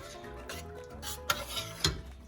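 Thick shakshouka sauce stirred in a pan, with soft scraping and occasional clinks of a utensil against the pan, plus two sharper knocks.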